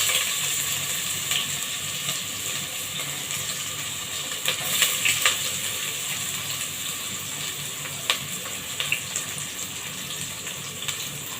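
Sliced onions dropped into generous hot oil in a pan, crackling into a loud, continuous sizzle with sharp spitting pops scattered across it.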